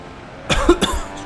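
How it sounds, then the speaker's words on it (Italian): Two sharp, close coughs in quick succession from a man, heard alone against a quiet background. "Scusate la tosse"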